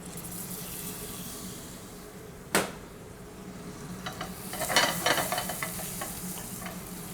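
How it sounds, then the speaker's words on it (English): Bacon crisping in a frying pan with a splash of maple syrup and Tabasco, a close steady sizzle and hiss with a sharp clatter early, then busier crackling and stirring scrapes toward the end. "the bacon is getting nice and crispy"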